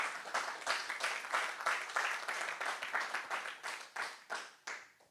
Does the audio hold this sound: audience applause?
yes